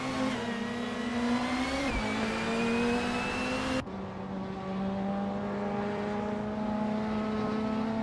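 Race cars including a 1991 Nissan Primera P10 and a 1991 Renault Clio roar continuously at high revs, a steady close engine drone with shifting pitch and a brief dip at a gear change, no talk.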